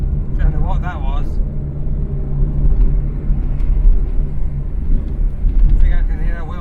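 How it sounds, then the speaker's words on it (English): Renault 9 with a clutch problem driving along, a steady low droning rumble from the running gear and transmission that swells and fades, with someone talking over it at the start and end. "I think I can hear a wheel bearing as well."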